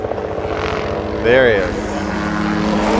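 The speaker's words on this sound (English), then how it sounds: "Not just one helicopter." A helicopter flies over a rally stage in Otago, its engine and rotor rumble steady under nearby talk, briefly swelling louder as it passes.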